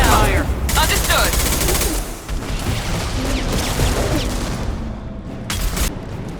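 Dense, loud gunfire fills a Mass Effect 2 battle, with rapid overlapping shots and booming blasts almost nonstop, mixed with game voices and effects.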